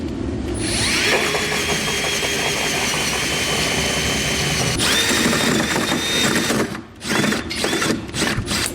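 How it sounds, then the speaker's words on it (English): A power drill bores through corrugated metal under a 2021 Chevrolet truck bed while fitting a B and W Companion fifth-wheel underbed kit, grinding loudly and steadily with a rattling chatter as the bit hits each corrugation. "put it up against the drill like that."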